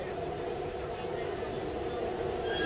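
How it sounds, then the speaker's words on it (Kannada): A goods train rumbles past at night near Surathkal, a constant heavy rolling drone heard from another train halted at a crossing, building slightly louder toward the end. "ಯಾವುದೋ ಟ್ರೈನ್ ಬರತೈತಿ."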